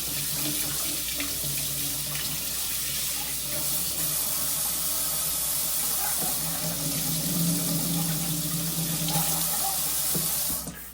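Water rushes steadily through a freshly cleaned drain hose on a leaking Beaumark fridge, a close, continuous splashing flow that lasts about eleven seconds before cutting off, with no voices.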